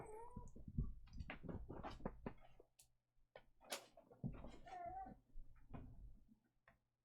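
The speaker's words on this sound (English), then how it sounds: "I was hearing you meow." A cat meows repeatedly in short, varied calls close by, with soft clicks and taps from an indoor room between the cries.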